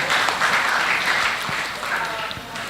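An audience claps steadily at a scout day thanksgiving celebration in Tegal city, a dense patter of applause lasting throughout, with a voice speaking over it.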